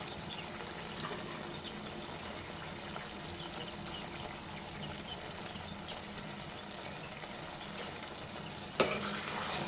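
Tomato brinjal curry with gravy is stirred in a pan, a quiet steady simmering hiss with faint scraping, ending in one sharp clack of a utensil near the end.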